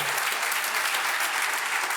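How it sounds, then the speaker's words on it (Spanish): A church congregation applauding loudly and continuously, a dense wash of many hands clapping at close range for the whole stretch. "Dale un aplauso al Señor, pero bien fuerte."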